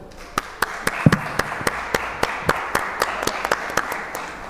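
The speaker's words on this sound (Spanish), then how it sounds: "para quien les pido un aplauso, por favor" A small audience at a book presentation gives sparse, uneven applause, with separate handclaps sounding clearly in a room and no one talking.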